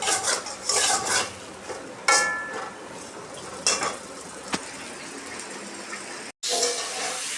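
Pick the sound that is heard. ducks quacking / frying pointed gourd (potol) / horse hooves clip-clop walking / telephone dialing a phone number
frying pointed gourd (potol)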